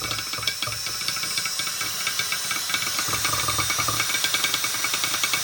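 A mixer stirs custom butyrate dope paint with a continuous hissing whir. Quick rhythmic rattling ticks repeat throughout, growing slightly stronger toward the end.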